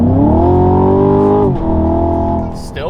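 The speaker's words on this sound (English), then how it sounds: "I'm just gonna floor it a couple of times." A Chevrolet Camaro ZL1 with a Valvetronic Designs exhaust, valves closed, revs hard up close, holding a loud, steady roar before a brief dip and a second surge, then settling.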